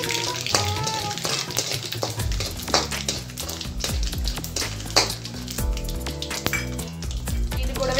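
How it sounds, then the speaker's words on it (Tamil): Urad dal and asafoetida sautéing in hot oil for Tamil-style tomato thokku, with steady low sizzling and scattered clinks and scrapes of a spoon against the pan. "சேர்த்த பொருள் எல்லாம் நல்லா வதக்கிக்கலாம்"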